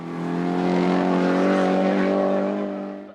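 A Peugeot 308 Cup race car climbs the hill at the Vuillafans-Echevannes hill climb, its loud, strained engine note swelling as it nears and then fading away over about three seconds.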